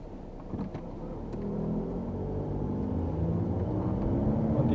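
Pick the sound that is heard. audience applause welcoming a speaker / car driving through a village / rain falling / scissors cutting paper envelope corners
car driving through a village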